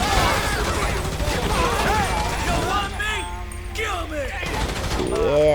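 Rapid gunfire bursts from a police video game rattle continuously through a dense, loud mix, with a voice talking over the shooting throughout.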